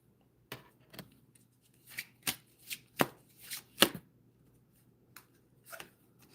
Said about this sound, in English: cards going all over the place